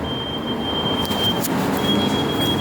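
A driverless metro train rumbles past nearby with a steady broadband roar and a thin high electric whine running through it, fairly loud and continuous, no voices.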